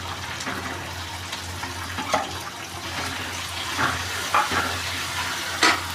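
Onions frying in a pan after garlic has been sautéed, for a banana-flower vegetable dish: a steady broadband sizzle runs throughout, with occasional scraping stirs and brief clatters, no talking.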